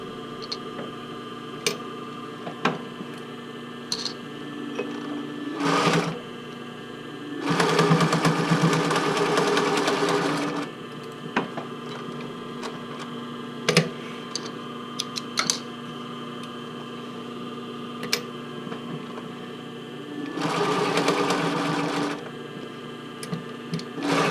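A sewing machine stitches a tankini pocket in short bursts, its whirring run lasting a few seconds at a time between pauses filled with light ticks and handling clicks.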